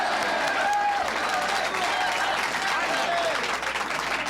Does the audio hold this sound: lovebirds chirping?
no